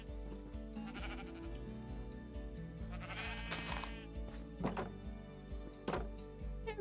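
Five sheep bleat repeatedly in Minecraft 1.21 on a cozy sheep shearing farm, several game bleats rising over steady background music with a few soft thunks, no talking.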